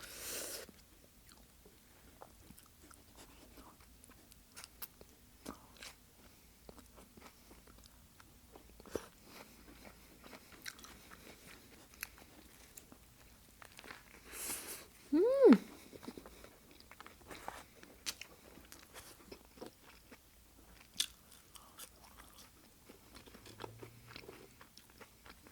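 Someone biting into and chewing a McDonald's Big Mac up close, soft crunches and moist chewing sounds repeating in irregular bursts, with a short vocal hum partway through, all fairly quiet.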